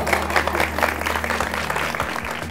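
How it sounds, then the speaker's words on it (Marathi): Studio audience applauding a contestant on a Marathi game show, a steady wash of clapping sustained throughout with a low hum underneath. "यांच्यासाठी जोरदार टाळ्या पाहिजे"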